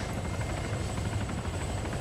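A helicopter in the video game Arma 3 gives a steady, droning rotor and engine hum that runs unbroken and moderately faint, with no talking.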